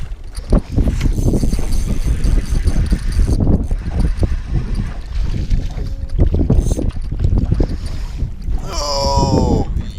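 Strong wind buffets the microphone on open water during crappie fishing from a boat, a constant rough roar with thumps and bumps of the boat, and a brief whistling tone near the end.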